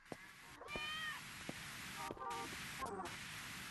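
A cat meows several times in a quiet room, with a faint hum and static underneath and some speech nearby.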